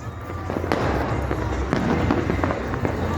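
Firecrackers crackle and pop continuously in the distance during a Makar Sankranti evening celebration in Jaipur, a dense rattling burst pattern under crowd noise and nearby voices.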